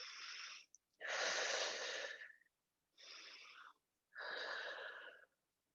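Deep, slow breaths taken during an arm and shoulder stretching exercise, heard close and fairly loud as long airy inhales and exhales, four in a row with short silences between them.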